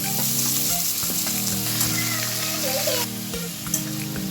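Prawns fry and sizzle in a pan, a loud close steady hiss with stirring scrapes and occasional clinks, no talking.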